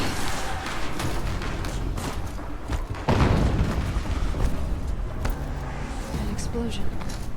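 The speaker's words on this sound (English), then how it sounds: "An explosion." An explosion in Horizon Zero Dawn Remastered lands as a sudden loud broadband burst midway through, rolling into a dense rumble over constant game sound and voice.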